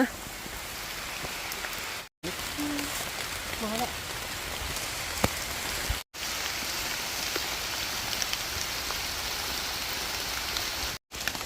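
Steady rain falls in the mountains, a dense continuous patter close by that runs on evenly for the whole stretch, broken only by a few abrupt cuts to silence.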